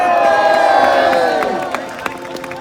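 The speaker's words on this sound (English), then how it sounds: "So let's have one last cheer for our Lady Kyle" A large crowd at a jousting tournament cheers loudly, a burst of overlapping voices and whoops that peaks early and then fades, with a few claps and shouts trailing off.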